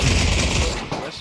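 Rapid gunfire bursts from the VR shooter game Pavlov VR, loud and dense through most of the moment, with a voice talking faintly underneath before the shots thin out near the end.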